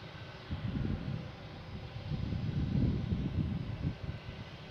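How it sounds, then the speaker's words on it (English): A JetBlue Airbus A320 from Nassau approaches Boston Logan International Airport, a low distant engine rumble that swells gradually under steady wind noise, with no voices. "We have a JetBlue coming in from Nassau. A320, flight 910."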